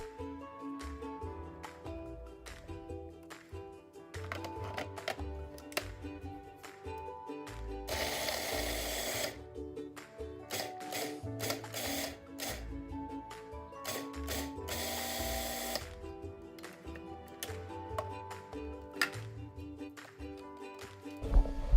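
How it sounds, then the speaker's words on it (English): A food processor grinding cauliflower gives a busy, rattling mechanical clatter of rapid clicks, broken by two louder whirring bursts of blade noise, steady and close with no speech. "So now we're going to be putting the cauliflower into the processor"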